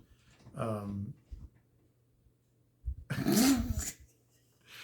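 A dog growls and whines while worrying a chew toy indoors, two bursts of rough throaty noise separated by a quiet gap, close to the listener.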